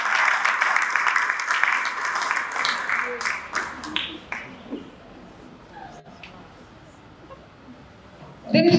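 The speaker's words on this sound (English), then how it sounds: "Please clap for them." An audience claps for quiz-competition queens called onto the stage at an African nations quiz final, a dense burst of applause for about four seconds that thins out and fades to faint room noise.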